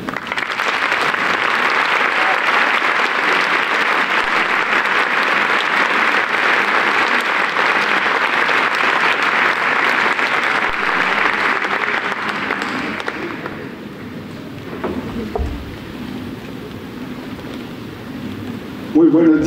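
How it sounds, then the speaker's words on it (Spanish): Warm, sustained applause from a large audience at an academic course inauguration, a thick roar of clapping for about thirteen seconds that then fades out, leaving quieter room sounds and a few shuffles. "Recibamos al padre Francisco con un caluroso aplauso"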